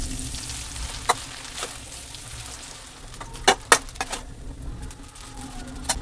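Noodle stuffing for thecha noodles being gently stirred in a pan after lemon juice is added: a soft background hiss with scattered sharp clicks and scrapes of a utensil, a few louder knocks clustered in the middle.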